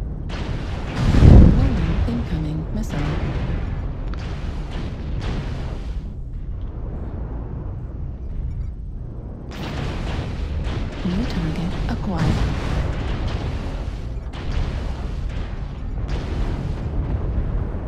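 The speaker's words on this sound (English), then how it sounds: "warning incoming missile" A missile explosion in a video game, a single booming blast near the start followed by ongoing rumbling game combat noise and scattered bursts.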